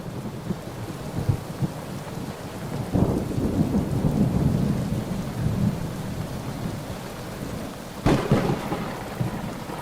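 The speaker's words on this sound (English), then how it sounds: "One night, a furious storm raged. Rain lashed the palace." A thunderstorm with heavy rain pours steadily, broken by two sharp thunder cracks, one near the start and one toward the end, each followed by rumbling.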